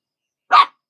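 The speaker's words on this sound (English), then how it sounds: "dogs are shenaniganizing as they do." A single short dog bark, loud and close, sounds once against otherwise total silence.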